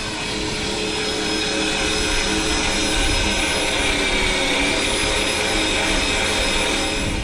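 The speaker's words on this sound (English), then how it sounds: "they have to cut the holes inside the new glass using the template or using the existing marks that they did from the mounts that are inside the kitchen cabinet" Diamond carbide bit cutting holes in new kitchen cabinet glass at a house build, a steady loud whirring drone that holds without a break throughout.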